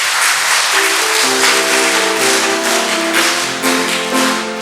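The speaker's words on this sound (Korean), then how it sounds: "큰 박수로 부탁을 드리겠습니다" A church congregation at a Sunday worship service applauds to welcome a newcomer, steady clapping blending with sustained instrumental music tones throughout.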